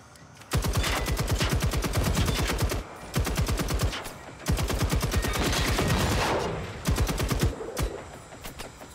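Enemy gunfire in Generation Zero arrives as long, rapid automatic bursts, four loud sustained volleys separated by short pauses, each a fast metallic rattle of shots.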